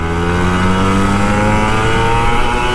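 An old Kawasaki Ninja RR 150 two-stroke motorcycle revs hard and close, its loud engine note climbing steadily in pitch with a rich buzzing drone and no pause.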